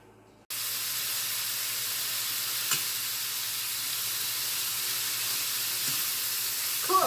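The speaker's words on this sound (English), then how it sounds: "everything now is sizzling, including the potatoes" Ground beef and potatoes sizzle steadily in a pan for Cuban picadillo, a constant close frying hiss that starts abruptly after a brief quiet moment and continues with a faint clink near the end.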